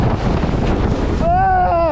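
A water ride at Liseberg amusement park plunges with a loud, close rush of splashing water, and then riders whoop and shout excitedly over the settling spray.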